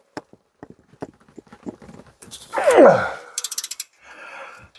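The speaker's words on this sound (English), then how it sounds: "So put a deeper socket on. Let's see if we can get that undone." Socket wrench on a deep socket working a rusted bolt free on a Jaguar wheel hub, heard as scattered clicks and taps, then a loud groaning creak as the seized bolt gives, followed by quick ratcheting clicks.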